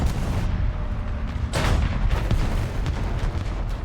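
An enemy gunshot in a tank video game: a loud, sharp crack near 1.5 seconds cuts through a continuous low engine rumble, with fainter bursts of distant fire scattered after it.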